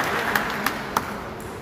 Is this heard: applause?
yes